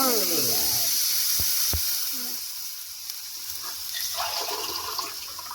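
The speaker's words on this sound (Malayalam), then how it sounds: "ഈ കിഴങ്ങ് ഇങ്ങനെ ഇറക്കുന്നതിൻ്റെ കൂടെ ശകലം വെള്ളം ഒഴിച്ചു" A hot pan of potatoes hisses and sizzles loudly as water is poured in, the bubbling settling into a quieter simmer with a couple of sharp taps.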